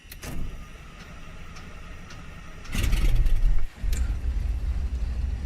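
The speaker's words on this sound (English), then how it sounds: "Starting engine number 2." Grand Duke aircraft engine cranking and catching in a flight simulator, a low rumbling engine sound that swells after a few seconds, briefly drops, then settles into a steady loud run.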